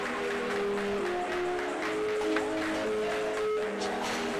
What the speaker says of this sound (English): Some loud cheering down to our left, so some obvious support from up north.